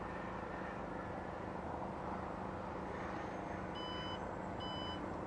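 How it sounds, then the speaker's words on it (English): A Maserati Grecale gives two short, high electronic beeps a little under a second apart after its power tailgate height is programmed. They sound over a quiet, steady background hiss. "You heard two beeps, so now we know it's programmed there."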